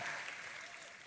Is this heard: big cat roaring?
no